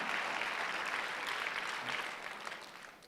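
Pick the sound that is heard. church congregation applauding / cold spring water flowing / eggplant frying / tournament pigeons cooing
church congregation applauding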